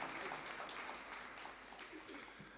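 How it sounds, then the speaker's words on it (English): Faint, distant applause from an audience at a ministerial regional business engagement in Kavango West, a steady wash of many hands clapping with no voices over it. "Can we give the constituency councillor a warm round of applause to show that we are feeling welcome?"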